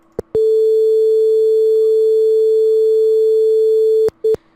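A pure A4 sine tone generated in Houdini CHOPs sounds loud and steady for about four seconds, preceded and followed by short clicks and a brief blip as playback starts and stops.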